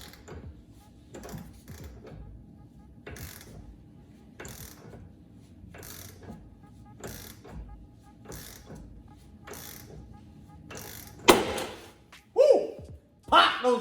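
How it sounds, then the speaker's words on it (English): A ratchet wrench repeatedly clicks while torquing down a ball joint remover on a C5 Corvette hub, steady close ratcheting strokes, followed by louder clanks and handling noise near the end. "got a ball joint remover. Fits in here pretty good. We're just gonna torque that down and should pop it right off."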